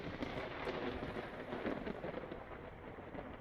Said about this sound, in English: I hope that lightning isn't coming for me.